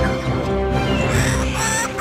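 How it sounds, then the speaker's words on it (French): Kookaburras call at a zoo bird show, giving raucous, chattering, cackling bursts at close range against a busy background for about two seconds, with no clear talk. "Voici les kookaburras."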